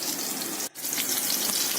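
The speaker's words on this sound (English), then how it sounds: "There you can hear the lovely oil sizzling and the cutlets frying." Fish cutlets fry until golden brown in oil over a low to medium flame, giving a continuous close sizzle with a brief dip partway through.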